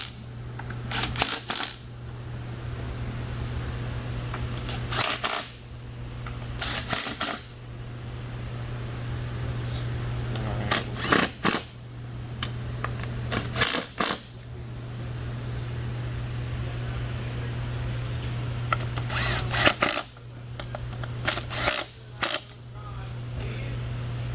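Tightening the hinges of a Leander table with a hand tool: short bursts of sharp mechanical ratcheting come in several separate clusters over a steady low background hum.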